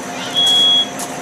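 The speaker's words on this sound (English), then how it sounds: "Smoke detector just went off." A smoke detector alarm sounds a single loud, steady high-pitched tone for about half a second, close by over a background hum.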